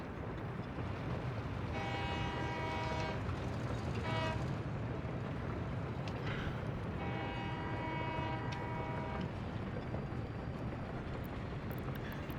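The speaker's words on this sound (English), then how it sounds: "Train is waiting too long." Trains in the city-building game Workers and Resources, with two stretches of steady tonal horn-like whistling over a constant rumbling mechanical bed, a short burst between them and no talk.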